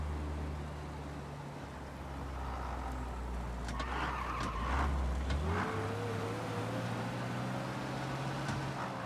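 A car driving to church with a low, steady engine drone, easing off and then picking up again with a rising rev partway through, heard from inside the cabin with no talking.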